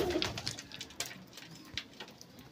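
Pigeons cooing faintly in a room, with soft low coos under a busy, rustling background and scattered clicks.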